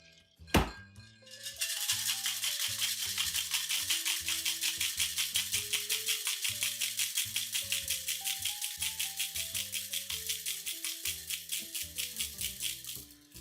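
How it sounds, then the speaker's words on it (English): Ice cubes rattle inside a cocktail shaker being shaken for a drink. After a single clunk, a fast, even rhythmic rattle runs for about twelve seconds, close and clear, with no talking. "Just until you can barely hear those ice cubes going around."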